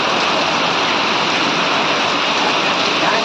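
Heavy downpour pouring over Palitana Road in Gariyadhar, Gujarat, during an unseasonal hot-summer storm: a dense, steady roar of rain with no breaks, loud and close throughout.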